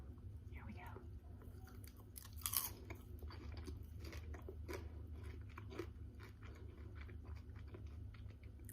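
Close, crisp crunching and chewing of homemade caramel popcorn, the bites and munches coming in an irregular rhythm over several seconds with a soft bright crunch burst early on.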